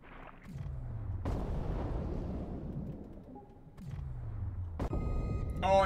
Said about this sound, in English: The explosion hit me too.